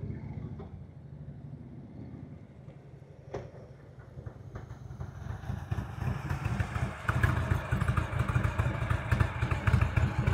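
A motorcycle riding at slow speed in a practice session, its engine rumble building from a low idle to a steady, louder throbbing as the bike draws closer, with a few sharp clicks early on.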